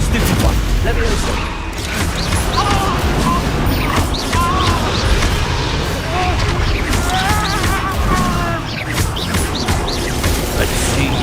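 Hogwarts Legacy spells blasting in combat on PS5: a steady run of booming, crashing magical impacts and explosions, with a voice shouting over the fight throughout.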